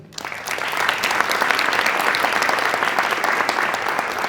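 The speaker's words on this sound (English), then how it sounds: "I still would like to congratulate her and have a round of applause" Steady applause from an audience at a peace awards ceremony, sustained clapping at an even level throughout with no speech over it.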